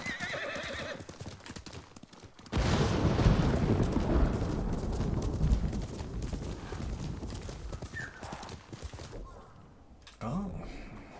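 A horse gallops in the samurai action game Ghost of Tsushima, with a rushing, rumbling run of hoofbeats and wind that fades toward the end, and a neigh comes near the close.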